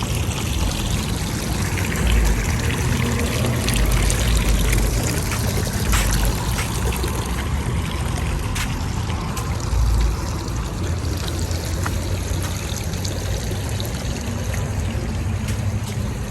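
Decorative water fountains at a Texas plant shop, steady trickling and splashing water close by, continuous throughout with faint background noise.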